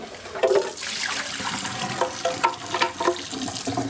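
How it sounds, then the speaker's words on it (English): Water sprays and splashes while a Ninja blender jar is rinsed out at a kitchen sink, a continuous hissing rush with irregular louder gurgles and spatters close by. "This is what I do to clean off my Ninja thing, my blender thingy. I spray it out first."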